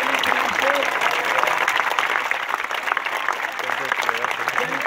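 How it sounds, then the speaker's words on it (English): Crowd applause for both players after the women's tennis final at the 2016 Hawaii Open, a sustained clapping from the stands with an announcer's amplified voice speaking over it. "big round of applause for both players in the first ever"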